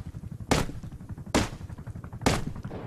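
Three loud, sharp gunshots in the Rust video game come at roughly even intervals over a busy low rumble of game noise.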